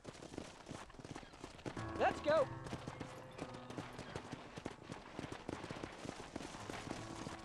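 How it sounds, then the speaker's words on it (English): Horse hooves clip-clop in a steady rhythm in the Western video game Red Dead Redemption, fairly faint under music and a brief spoken line. "Hit your horse and wait for me by the stable."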